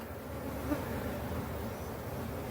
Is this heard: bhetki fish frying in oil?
no